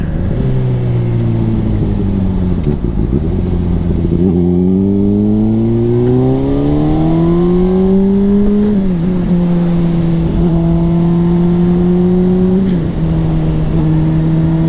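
A 2009 Honda CBR 600RR sport bike roars steadily under load, its engine pitch climbing through each gear and dipping at every upshift, loud and close throughout with no talk.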